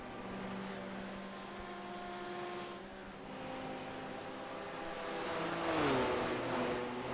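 Several BMW race car engines running in a close pack in iRacing at Bathurst, a layered steady drone of overlapping engine tones that shift pitch as cars pass, swelling louder near the end.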